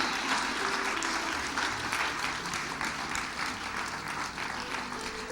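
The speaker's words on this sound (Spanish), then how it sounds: "Dale un aplauso al Rey." Church congregation clapping during a worship service, sustained dense applause from a crowd filling the whole stretch, steady and fairly loud with a low hum beneath it.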